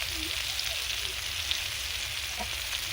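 Pointed gourd fries in oil with dry chili powder in a pan, giving a continuous, even crackling sizzle at close range with faint stirring.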